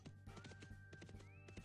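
Hooves clip-clop steadily on a ridden horse in an online realm-versus-realm multiplayer game, a quick repeating rhythm of close, moderately loud hoofbeats with a faint whinny-like tone running above them.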